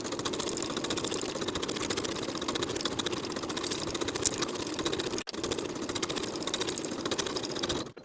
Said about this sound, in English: Sew or serge both of your sleeves in place with a 3/8 inch seam allowance